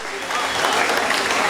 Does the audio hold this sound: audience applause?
yes